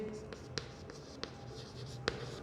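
A teacher writes an accounts entry on a board for a sole trader's final accounts, with faint scratchy strokes and a few sharp taps under a steady room hum. No talk is heard.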